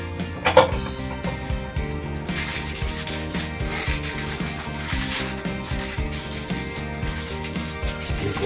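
A screw being driven to fit a door strike plate, with rough grinding and rubbing of the driver against metal and wood, close and continuous, with a sharp knock near the start.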